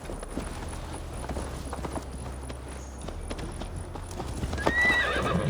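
Hooves clip-clop steadily as a horse in Assassin's Creed Valhalla moves along, and a loud whinny rings out near the end, with some voice in the background.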